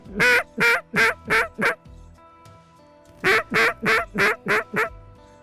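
Mallard ducks quacking loudly during a November hunt in South Dakota, a run of five sharp quacks, a pause, then another burst of about seven evenly spaced calls, close and clear.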